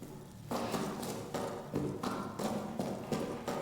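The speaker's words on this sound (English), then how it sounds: "the dramatically louder footsteps suddenly put the sneaky steps into perspective" Heavy footsteps in the horror game Amnesia: The Bunker, a loud regular series of thudding steps, close and dominant, about seven strides in under four seconds.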